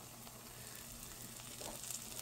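A small piece of dough drops into hot frying oil to test its heat, giving a soft, steady sizzle that swells slightly partway through, quiet and close.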